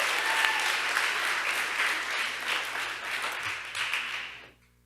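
Audience applause at a middle school awards chapel ceremony, dense and sustained clapping from a seated crowd, steady for several seconds before tapering off to quiet.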